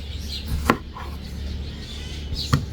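Knife chopping tomatoes, potatoes and onions on a board, two sharp isolated chops spaced well apart against a quiet kitchen background.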